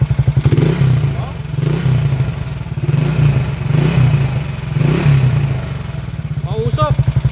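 A motorcycle engine, noisy even though it was overhauled only a week earlier, idles close by with a rough, rhythmic clattering pulse that swells and eases in regular cycles, with brief talk at the end.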